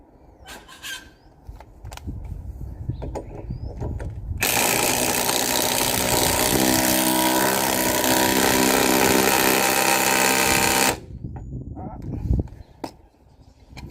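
A power tool whirs steadily for several seconds, tightening the large front hub nut on an AU-BF Ford Falcon during a hub and bearing replacement, with clicks and handling noises before and after it.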